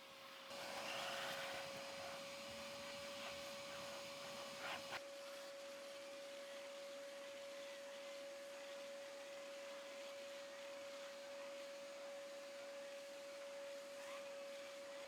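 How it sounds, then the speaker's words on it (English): A Nilfisk Buddy 12 vacuum cleaner works over a car interior with crevice and brush attachments. A steady, close whine holds at an even level for the whole stretch, with a brief rougher burst of suction noise near the start. "I first started off by vacuuming with the Nilfisk Buddy 12, and I used a combination of the crevice and the brush attachment"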